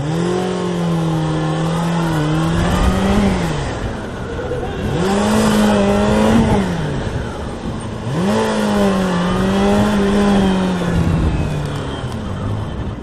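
Cars accelerating through city traffic in Pasadena, Los Angeles, engines rising and falling in three long revving surges, loud and close, with no voices.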